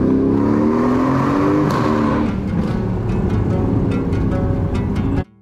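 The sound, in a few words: Aston Martin car driving into a tunnel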